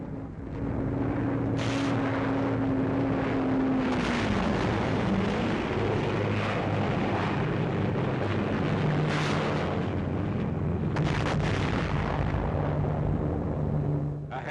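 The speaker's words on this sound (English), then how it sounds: "Naha is hit from the air as rocket-firing planes support the attack." Rocket-firing planes attack Naha during the Battle of Okinawa, Shuri line, 1945, a sustained loud roar of engines with a falling drone and sharp bursts of blasts over steady rumbling, no talk.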